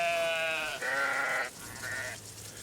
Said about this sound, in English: A flock of curious and very sociable